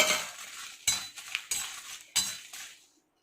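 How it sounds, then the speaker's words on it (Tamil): Dried red chillies dry-roasting in a pan for idli milagai podi, a utensil scraping and stirring in four quick, distinct strokes that fade out, with no sizzle and no talking. "இப்போ அடுத்தது நம்ம எடுத்து வச்சிருக்க வரமிளகா போட்டுக்கலாம்."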